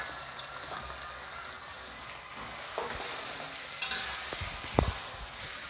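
Eggplant and chili stir-fry in a pan with a soft steady sizzle, joined by a few louder scraping stirs toward the end.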